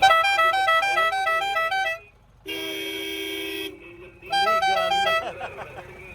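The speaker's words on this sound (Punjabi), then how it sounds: "ਬਾਬਾ ਹਾਰਨ ਮਾਰ ਦੇ ਮੈਨੂੰ" A vehicle horn honks in repeated short toots, then a long steady blast, then more rapid toots, loud and close.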